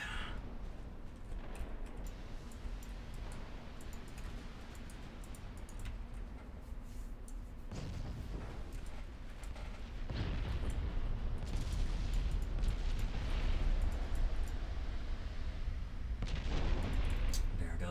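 Naval gunfire and shell hits in Ultimate Admiral Dreadnoughts, a battleship battle: a continuous low rumble of heavy guns and distant impacts, with sharper booms swelling around the middle and later on, and speech faintly underneath.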